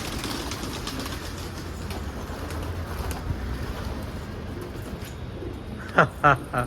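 A pigeon coos in a short burst of three soft calls near the end, over steady outdoor background noise with faint voices.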